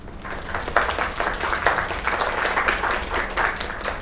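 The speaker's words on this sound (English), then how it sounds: "Another round of applause." Crowd applause in the video game Lake: dense, steady clapping from many hands with slight swells, fairly close and sustained for about four seconds, no voices on top.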